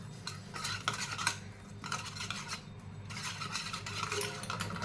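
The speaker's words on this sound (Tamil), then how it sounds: "இப்போ இதை நல்லா நம்ம மிக்ஸ் பண்ணிக்கலாம்" Omelette egg batter with millet flakes and pepper is whisked in a bowl, a steady scraping and clinking of a utensil against the dish in bursts, close and fairly quiet, with no talking.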